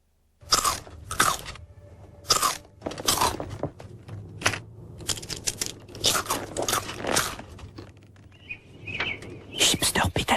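Crisp, repeated crunching bites of Chipster salted potato chips, with loud bursts coming in quick succession close up, some faint bird chirps behind.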